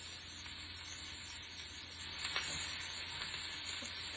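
Food cooking in a pan on a stove over medium-low heat, giving a soft, steady sizzle and faint frying hiss throughout, with a couple of slightly louder crackles near the end and no talking.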